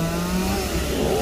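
A chainsaw cuts through the trunk of a sao tree, worked by a climber standing between two branches at an industrial park in Sa Đéc; a steady, loud engine drone runs unbroken throughout.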